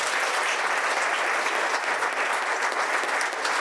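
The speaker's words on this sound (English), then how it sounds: "So how about a round of applause for Preston Singletary for being here?" Dense, sustained audience applause fills a lecture hall, a loud even wash of many hands clapping at once with no pauses.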